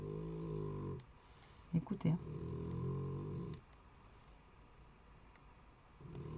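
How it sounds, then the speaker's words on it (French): A female dog snoring loudly in steady drawn-out rasping breaths, close to the listener, with a pause midway while someone speaks briefly. "c'est la chienne hein, qui ronfle"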